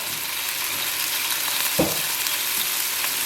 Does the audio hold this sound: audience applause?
no